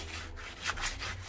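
Soap-coated sponge sandpaper rubs back and forth across a white PVC frame, producing close, brisk scratchy strokes in a short, steady sequence without any talking.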